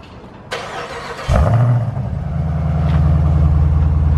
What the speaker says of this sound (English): Durango Hellcat, cold start.